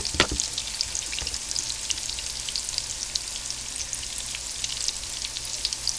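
Pumpkin blossoms fry in hot oil with a dense, continuous crackling sizzle, close and steady, and a couple of brief clicks near the start.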